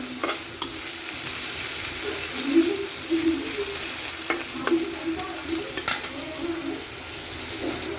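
Bitter gourd (karela) sizzles steadily in a pan over raised heat while a spatula stirs and turns it, scraping and clacking in repeated strokes close up, with no talking.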